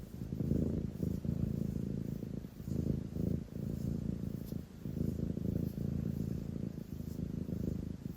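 A cuddly, affectionate house cat purrs steadily and close up, a continuous low rumbling with slow rhythmic swells as it breathes in and out, with no other sounds over it.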